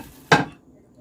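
Breadcrumbs and onions land in a bowl of meatloaf mixture with a single sharp clunk, close and brief, after which there is near silence.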